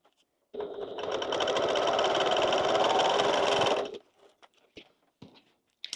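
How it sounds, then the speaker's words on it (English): A sewing machine bastes along the top of a bag in one steady, close whirring run of about three seconds, then stops, followed by light handling clicks and rustles and no speech. "And then I'm going to baste along the top."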